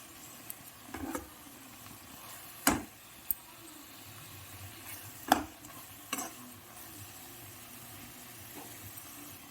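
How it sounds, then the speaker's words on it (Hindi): Tomato masala for kadhi frying in oil, a faint, soft sizzle close by with a few sharp scrapes and clinks of a spoon stirring the pan at irregular intervals. "तो इसे ऑयल छोड़ते तक अच्छे से भून लेते हैं"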